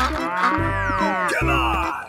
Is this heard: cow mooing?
yes